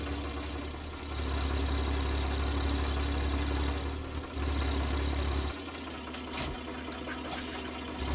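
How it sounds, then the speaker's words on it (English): A farm tractor engine idling, a steady low rumble that continues under faint background noise, dropping slightly in level partway through. "Put the milk tanker back in just in case we need this tractor for anything else."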